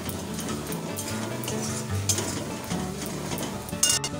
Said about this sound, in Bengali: তো এই দেখো মশলাটা ভালো করে কষিয়ে নেব আলুর সঙ্গে